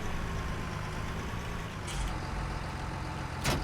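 A tractor engine in Farming Simulator 19 drones steadily at a low, even pitch, with a brief hiss and clank near the end, no voices present.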